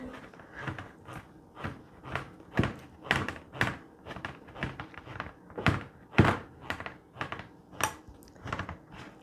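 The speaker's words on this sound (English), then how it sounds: "You can always hear when the can is done because it gives a kind of a little tink" A manual can opener cranks around a can in a steady series of rhythmic clunks and grinding thumps, close by, with no voices.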